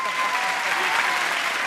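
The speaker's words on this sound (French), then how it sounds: "Merci, on peut l'applaudir bien fort." A television talent show audience applauds, a dense, even roar of clapping close and fairly loud from start to end with no pauses.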